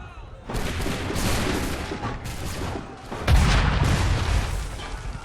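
Cannon fire booms in Assassin's Creed III, two heavy, loud blasts with a rumbling tail and crackling battle noise between them.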